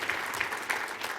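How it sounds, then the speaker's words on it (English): Audience applause at the AAU Sullivan Award ceremony, a brief, moderately faint burst of many people clapping in a steady, even patter. "Round of applause for Yoda"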